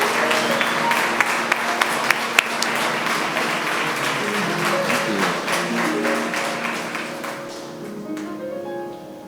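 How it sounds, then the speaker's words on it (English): Audience applause, a steady dense patter of many hands clapping with a few sharper claps standing out early, gradually thinning and fading toward the end. "All the elders applauded for you on Facebook"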